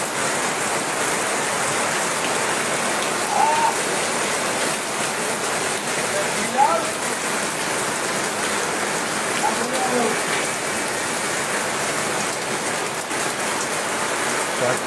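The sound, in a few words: torrential rain in Deganga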